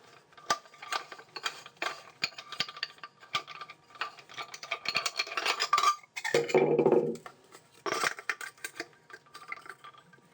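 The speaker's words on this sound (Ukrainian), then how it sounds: "Беремо булгарку. Так, ага, треба круг поміняти, міняємо круг." Metallic clicking, clanking and ratcheting as the cutting disc is swapped on an angle grinder in a workshop, with irregular handling taps and a brief scraping rattle midway, close and moderately loud.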